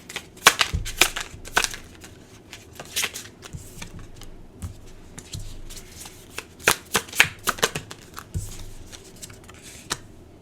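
Tarot cards being shuffled by hand, close and crisp, in repeated bursts of riffling and slapping with short pauses between, no talking.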